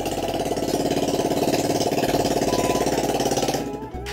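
An Apache RTR 160 motorcycle fitted with an Akrapovic exhaust idles in neutral, a loud, close, rapid thumping putter that runs steadily before the sound drops off near the end.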